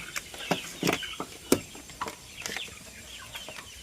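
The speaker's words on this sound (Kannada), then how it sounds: "ಬನ್ನಿ ಕೋಳಿಗಳನ್ನ ತೋರಿಸ್ತೀನಿ" Several country chickens cluck in short, irregular bursts nearby on a poultry farm, soft and scattered against a faint background hiss.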